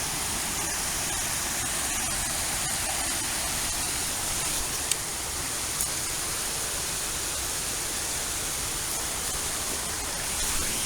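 Water of the Ganges River flowing, heard as a continuous broad rushing wash that stays even and fairly close for the whole stretch, with no talk over it.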